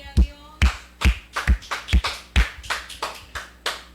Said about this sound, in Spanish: Un aplauso al Dios sublime